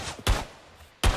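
Two loud, sharp gunshots in a video game, close and punchy, separated by a brief pause.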